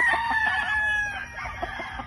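A prized gamecock stag crows in a long, strained call close by, with fainter clucks and farmyard bird sounds behind it and no talk.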